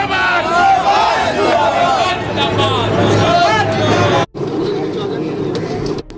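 Dense crowd chatter and shouting at an outdoor political rally in Uttar Pradesh, a loud continuous hubbub of many voices that cuts out briefly near the end before resuming.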